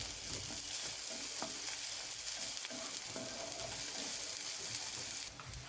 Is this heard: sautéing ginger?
yes